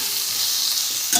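Ridge gourd stirred with ground spices in a pan, a brief close sizzle with a stirring scrape near the end and no talk.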